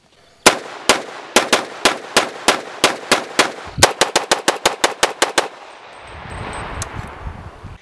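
A CMMG Banshee AR pistol in .45 ACP fires a rapid string of about seventeen loud, sharp shots, spaced evenly and then quickening, before a noisy rumbling tail of wind or movement with no talk.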